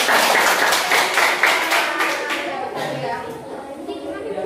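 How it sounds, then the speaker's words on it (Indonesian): Children in a classroom clap their hands in a burst of quick, loud claps that fade out after a few seconds, with young voices talking over and after the clapping. "Tepuk tangan dulu."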